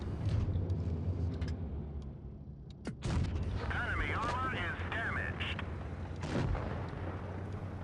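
Tank cannon shot of a high-explosive round in an online tank battle game, a sharp boom near three seconds followed by rumbling battle noise, engine drone and a second blast near six seconds, with voices talking over it.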